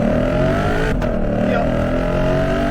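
A Lexus RC F's V8 engine revving inside the cabin, a loud sustained growl with a brief throttle blip and shifting pitch, no one talking over it.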